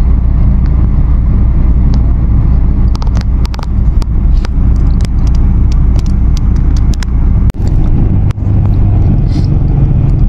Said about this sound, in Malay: Bas ni singgah sini.